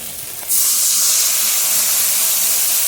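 Masala of turmeric and chili powder frying in a pan bursts into a loud, steady sizzling hiss as water is poured in, rising suddenly after a moment of quieter frying and holding strong to the end.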